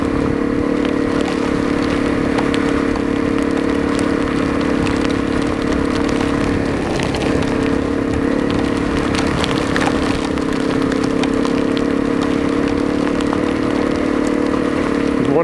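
Wind roars against a Honda CRF250L on a ride through flooded country roads in Barry County near Exeter, Missouri, a loud constant rushing blended with the bike's engine drone, no talk.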